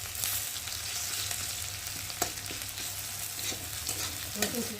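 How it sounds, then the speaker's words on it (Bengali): Garlic and onion fry in hot oil for a salted fish curry, making a steady, close sizzle and crackle with a few light stirring scrapes. No one speaks. "তো দেখো, রসুন আর পেঁয়াজটা ভাজা ভাজা হয়ে এসেছে, লাল লাল মতো এসেছে।"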